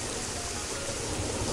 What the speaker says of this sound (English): Sorry about the noise, it's been raining all week.